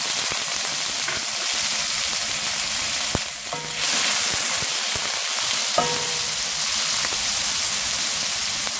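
Garlic paste frying in a small amount of oil in a wok gives a steady, loud sizzle throughout, with a couple of brief utensil clicks and no voices.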